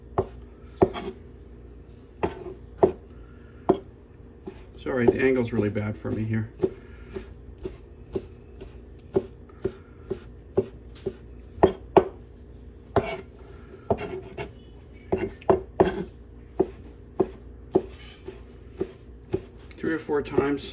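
A knife rough-chops steak for tartare on a board, giving sharp, close, repeated thuds at an irregular pace, with a short, quicker flurry of chops partway through and someone talking briefly between strokes.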